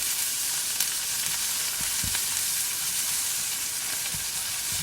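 Onions sizzle and fry in oil in a pan, a dense continuous crackling hiss that stays loud and steady throughout, with a few soft clinks of stirring and no talk.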